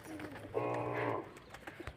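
A single drawn-out pigeon coo rises close by and holds for under a second, with quieter, fainter calls before and after.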